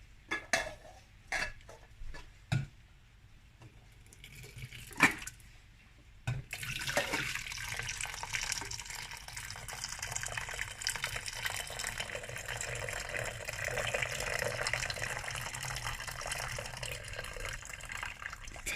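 Kawakawa tea is poured into a pot as a steady liquid stream, preceded by a few clinks and knocks of pots and utensils.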